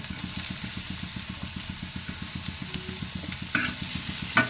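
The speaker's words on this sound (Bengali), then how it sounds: "রসুনটা ভালো করে ভেজে নিলে আমার ভালো লাগে" Garlic frying in a non-stick pan, giving a steady close sizzle with a rhythmic scraping stir pulsing underneath and a couple of brief clinks near the end.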